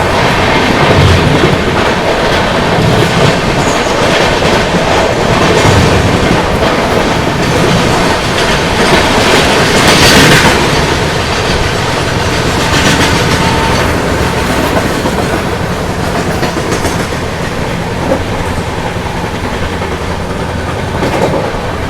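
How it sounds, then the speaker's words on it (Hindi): An express train runs alongside a freight train, a loud continuous roar of rolling wheels with rhythmic clickety-clack and a brief swell of squeal, steady throughout with no talk. "मालगाड़ी के साथ क्या मजेदार पैरेलल रन हो रहा है।"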